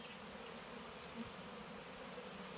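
Honeybees at a beekeeper's hives in Artvin, Turkey, make a continuous dense buzzing hum, steady and fairly faint, with no voices over it.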